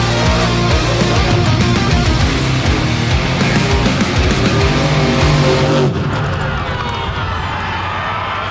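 Modified dirt drag racing cars on cut tires launch in Missouri, a loud roaring engine blast with rising revs and gritty tire noise that continues strongly before dropping off sharply near the end.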